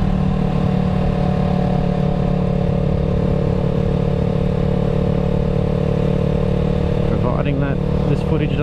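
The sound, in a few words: Yamaha YZF R3 motorcycle riding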